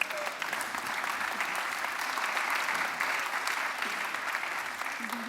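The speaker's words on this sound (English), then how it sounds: "It's very rare for business people and politicians to get spontaneous applause." Spontaneous audience applause at a climate summit, a broad, even round of clapping from a large crowd that holds steady throughout at moderate loudness.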